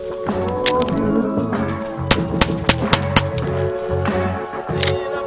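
A Ruger Mark IV Tactical .22LR pistol fires a handful of sharp, loud cracks at irregular intervals, close by, with mechanical clicks and handling between shots.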